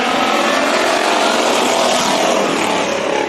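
Race cars thunder around Bakersfield Speedway in a heat race, a loud, continuous roar of engines at full throttle that fills the air without pause.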